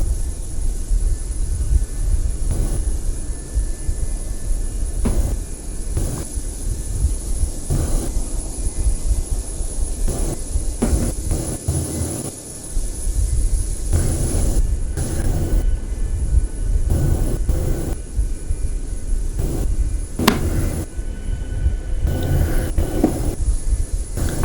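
An airplane engine in Microsoft Flight Simulator 2020 drones loudly and steadily while the aircraft rolls along the runway, a continuous low roar with a thin high whine above it.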